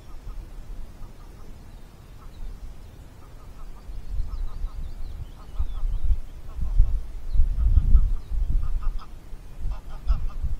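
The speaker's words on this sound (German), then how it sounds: "Nee, waren Graugänse, glaube ich." Greylag geese honk in scattered, fairly distant calls during a fishing outing, repeated bursts rising over low rumbling background noise.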